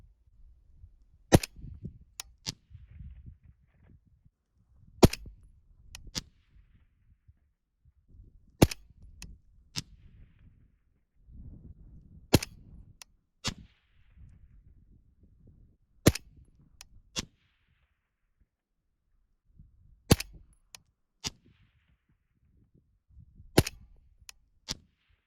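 Rifle shots from 6.5 ammunition fired at a target ring out one at a time at an outdoor range, about a dozen sharp cracks spaced a few seconds apart, with quiet rustling between them.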